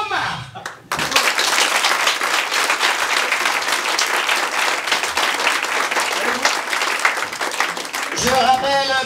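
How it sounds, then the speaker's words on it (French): An audience at an improv cabaret show bursts into loud, sustained applause lasting about seven seconds, dense hand claps filling the room before fading as voices return. "faites un tonnerre d'applaudissements pour Jean-Marc."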